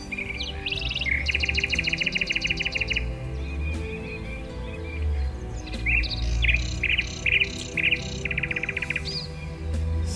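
A nightingale sings repeated bright trills near a river, mixed with calls from other birds, in two clear bursts against a quiet low rumble.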